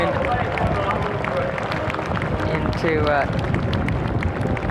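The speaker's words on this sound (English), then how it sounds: "Let's hear it for the big round of applause." Audience applause at the 1991 Texas inauguration of Governor Ann Richards, a dense steady wash of clapping and crowd noise with voices mixed in throughout.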